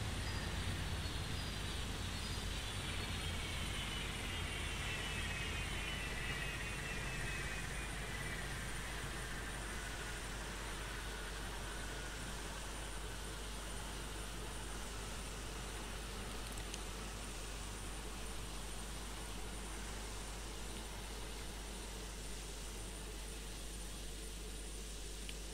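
Engines of a C-130J Hercules shut down in the DCS flight simulator, a steady loud drone with a descending whine as turbines spool down, continuing throughout with no talking.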